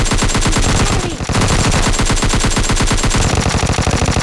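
Rapid automatic gunfire in the mobile shooter PUBG Mobile Lite, loud sustained bursts of closely spaced shots with only a brief pause near the middle.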